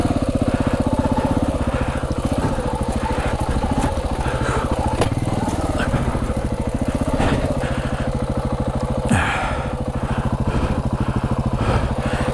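A KTM 690 Enduro or Yamaha WR450F off-road motorcycle engine runs steadily and close, a continuous buzzing drone with small throttle changes and a brief scraping knock near the end, riding over rough rocky ground.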